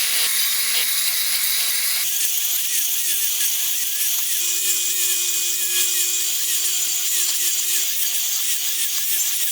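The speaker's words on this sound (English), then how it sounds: "we turn on our blade and make our first cut all the way down to its limit" A miter saw blade whines steadily through wood while making repeated cuts for a bowl-making jig, a loud continuous motor tone with a pitch shift partway through and small rhythmic ticks, no voices.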